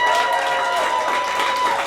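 An audience at a hip hop marathon fundraiser breaks into steady applause after the sponsors are read out, a dense continuous wash of clapping over faint background music.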